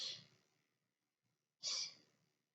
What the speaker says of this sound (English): Really make a noise with your exhales so you know you're really breathing